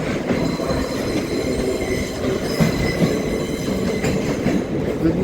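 A train rumbles steadily and loudly, with high metallic wheel squeal ringing over a dense, continuous roar of rolling carriages.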